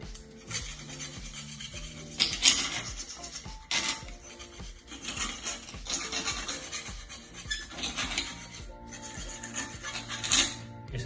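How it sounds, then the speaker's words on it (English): A steel-bladed EasyPipe Clean scraper scrapes paint off a 22mm pipe in quick back-and-forth rasping strokes, close and fairly quiet, with a few brighter scratchy bursts and no talking. "You can scrape backwards and forwards across the pipe and look,"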